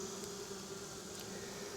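Honey bees buzz at an open hive during a hive check, a steady, fairly quiet drone with a low hum running through it and no talk over it.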